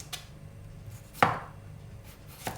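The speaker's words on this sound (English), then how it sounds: "Just cut off the dry end. And I quite like my cucumber fairly thin." A knife slices through cucumber on a board, with a few sparse cuts, one crisp and prominent near the middle and fainter ones before and after, in a quiet kitchen.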